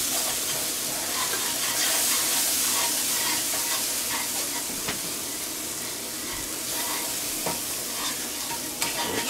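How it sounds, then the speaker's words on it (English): Flour is stirred into hot butter in a pan to build a roux for bacon mac and cheese. A constant close sizzle runs under the scrape and swish of the stirring, with no voices. "So I'm just going to stir this in, basically making like a nice little roux"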